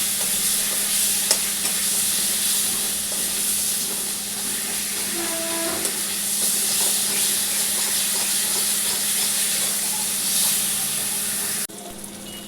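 Garlic frying in oil in a pan, a loud, steady close sizzle and hiss running throughout with occasional faint scraping, no voices.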